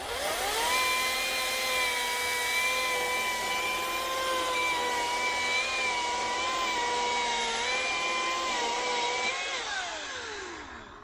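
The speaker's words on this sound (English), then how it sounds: "I'm trying to keep my saw blade out of the dirt about as much as I can" A Ryobi battery chainsaw thinning trees whines steadily and loudly at close range for several seconds, its motor pitch holding even before winding down at the end.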